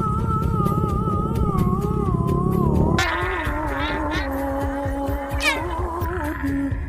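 Car crawling in a traffic jam during the Eid homecoming drive, a steady close engine and road hum with sliding whining tones and occasional horn-like blips from surrounding traffic, no talking.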